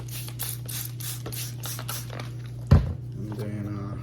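Quick bursts of a spray bottle misting water onto a plastic Porsche Boxster fog light lens, about eight short hisses in a steady rhythm, over a low hum, followed by a knock and faint clatter.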